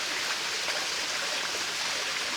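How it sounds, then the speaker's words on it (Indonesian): Small waterfall with low flow on a stream, giving a steady, dense hiss of falling and running water that stays close and even throughout, with no voices. "di jerojokan air terjun, namun airnya kecil"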